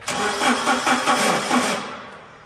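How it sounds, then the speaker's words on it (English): A 2011 Komatsu FG25T-16 forklift engine cranks over with a rhythmic, chugging whir, the starter turning repeatedly for about two seconds before winding down. "Kind of hear it cranking over there"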